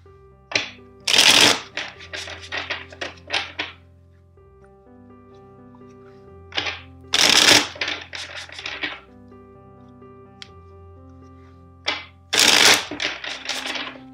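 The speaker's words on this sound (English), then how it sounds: "let's shuffle" Tarot card deck being shuffled in three loud bursts of riffling and bridging, each followed by a few softer taps and slaps as the cards settle, with quiet background tones between.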